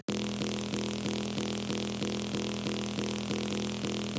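A gritty, buzzy Phase Plant synth bass pattern with a distorted, processed texture, repeating a steady rhythmic figure throughout, loud and alone.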